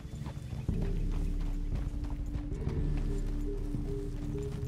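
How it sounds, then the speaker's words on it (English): Horse hooves in Red Dead Redemption 2, a small horse clip-clopping at a steady walking rhythm, close and clear over a low continuous game ambience, with a faint whinny mixed in. "That little tiny horse."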